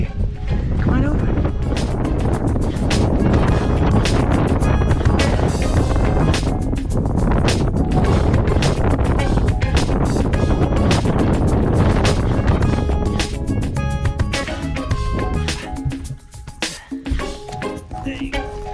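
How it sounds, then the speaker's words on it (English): Strong outdoor wind buffets the microphone in cold, rainy weather, a loud, constant roaring rush with gusty bursts throughout, while people talk over it. "It's gnarly out here. Wow, these winds are nuts."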